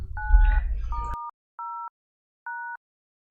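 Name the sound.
telephone keypad DTMF tones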